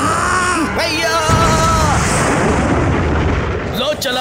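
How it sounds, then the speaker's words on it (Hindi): Cartoon fireworks: loud bursts and booms crackle through a noisy scene, with whistling rising tones and a voice speaking briefly at the start and end. "लो चला पटाखा आसमान में और शुरू हो गई आतिशबाजी"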